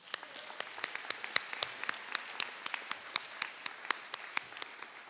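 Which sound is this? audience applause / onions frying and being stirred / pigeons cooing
audience applause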